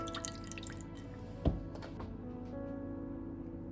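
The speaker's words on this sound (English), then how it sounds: "Along with a little bit of beef broth, just enough to cover the bottom of the crock pot" Beef broth poured into a crock pot, a close, soft trickle of liquid with one distinct drip-like splash amid faint background noise.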